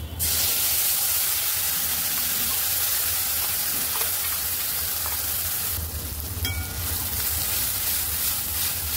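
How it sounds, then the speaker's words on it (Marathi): Ground masala paste with tamarind, cumin and asafoetida sizzles loudly in a hot pan for a spicy bitter gourd curry, a dense continuous hiss that swells briefly near the end, with no talk. "मस्त मसाला असा परतून घेऊया"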